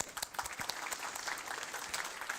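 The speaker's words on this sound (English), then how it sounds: "So applause to you guys." Conference audience at a network operators' gathering claps in a lively burst, many hands with distinct sharp claps audible in the crowd, continuing steadily for the whole stretch.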